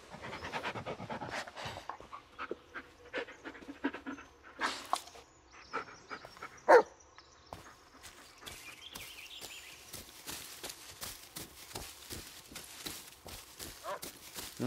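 A dog in the Blair Witch video game pants in quick, rhythmic breaths close by, mixed with footsteps on the ground and a brief louder sound near the middle.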